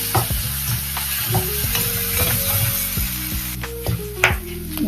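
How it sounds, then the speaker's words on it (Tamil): Masala and curry leaves sautéing in a pan for a Tamil-style mutton curry: steady close sizzle with repeated spoon stirring and scraping, clattering strokes throughout, no voices. "இந்த மசாலா தூக்கி இதில் போட்டு லைட்டாக வதக்கணும்"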